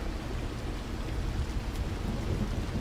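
Steady rain hisses over a low, continuous rumble of thunder in the video game The Last Caretaker, a dense stormy wash with no breaks.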